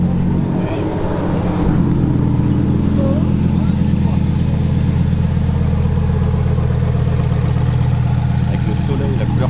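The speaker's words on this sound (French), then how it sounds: "Il y a André qui arrive avec son STO." A Lamborghini Huracán STO sports car rolls in at a car meet, its low engine note steady and fairly close amid crowd chatter and other idling cars.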